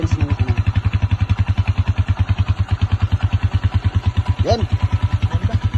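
A Honda TMX 155 motorcycle fitted with an IronTube fuel saver idles close by with a steady, even low thumping putter, loud and continuous, with a brief voice heard over it.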